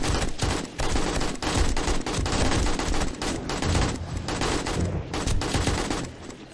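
AK rifle fired in the game 7 Days to Die, dense sustained automatic gunfire in loud, nearly unbroken bursts with brief gaps, close and dominant with no speech.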